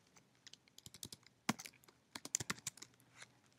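Typing code on a computer keyboard, with quick irregular bursts of close, crisp key clicks and one sharper tap, in a quiet room.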